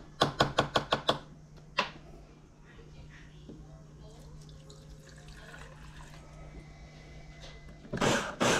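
A snail being chopped on a cutting board for larb, heard as a quick burst of about six sharp knife strikes, then a lone strike, then clattery kitchen sounds under a steady hum, with a louder rustle near the end.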